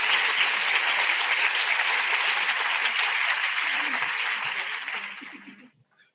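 An audience at an awards presentation applauds a winner, a dense and steady wash of clapping that holds for several seconds and then tapers off to silence.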